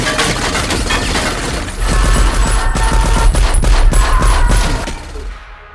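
Heavy gunfire from an action film, a dense rain of bullets with rapid overlapping shots, sharp cracks and shattering impacts, loud and sustained before thinning out at the end.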